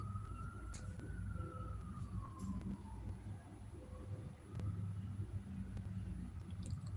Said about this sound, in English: Did y'all hear that little ambulance when I asked that?